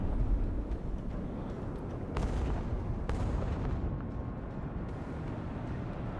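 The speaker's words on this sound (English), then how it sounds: "Nice bombing run." Bombing run in the Broken Arrow war video game: continuous deep rumbling blasts and booming impacts, with sharp bursts around the midpoint, loud and steady throughout with no talk.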